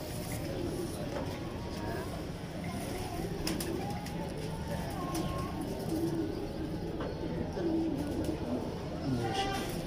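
Pigeons coo in a loft of long-distance flying pigeons, soft repeated low coos over a steady bed of background noise, with faint voices nearby.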